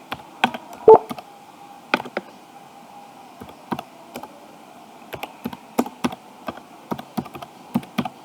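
Keystrokes on a computer keyboard tapped in short irregular bursts, close and fairly crisp, with brief pauses between clusters of clicks over a faint steady background hum.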